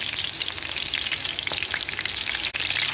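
Chicken seekh kebab pieces shallow-fry in hot oil, giving off a steady, bright crackling sizzle with scattered pops close by.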